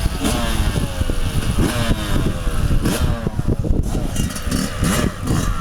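Motocross motorcycle engine revving loudly and close for the whole stretch, a rough continuous buzzing roar with pitch rising and falling as the throttle is worked.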